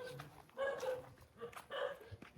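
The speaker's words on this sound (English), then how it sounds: "The dog's barking." Dog barking at a home build site in the Philippines, two loud, close bursts of barks about a second apart, with brief whimpering sounds in between.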